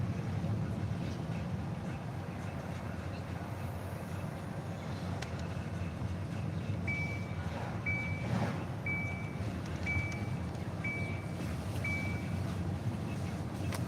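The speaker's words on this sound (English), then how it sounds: "Stupid belt alarm." A car seat belt warning chimes six times in an even, repeating series, fairly clear over a steady low drone of the vehicle driving on snowy, plowed roads.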